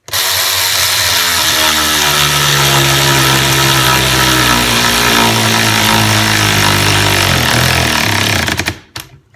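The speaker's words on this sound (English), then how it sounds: "And you ratchet it all the way down." A 20V cordless ratchet drives a fastener down, a loud continuous motor whir with a rising tone as it runs, stopping abruptly near the end.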